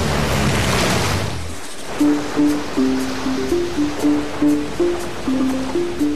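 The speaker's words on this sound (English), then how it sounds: "From day one, the kayakers battle epic white water." Roaring white-water rapids on a river run by kayakers: loud, continuous rushing water, later joined by a steady, rhythmic tonal pattern over the churning flow.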